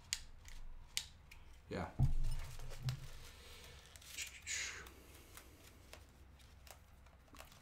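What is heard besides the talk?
filament sensor clicking on a Prusa Mini 3D printer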